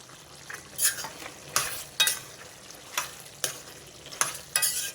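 Curry leaves and chicken fry in a pan with most of the water cooked off, giving a quiet background sizzle broken by regular spoon scrapes and clinks every half second or so. No voices.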